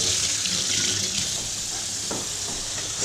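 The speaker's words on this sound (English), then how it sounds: "So next I'm going to wash my hands." Water from a kitchen sink tap runs steadily while hands are washed, a loud, continuous close-up gush with no voices over it.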